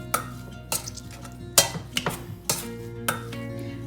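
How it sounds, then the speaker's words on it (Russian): Boiled potatoes mashed by hand with a pestle in a pot: a series of irregular dull knocks and scraping squelches, close and moderately loud, with no talking. "Снимаем с огня и ступкой разминаем. Разминаем картошку как на пюре."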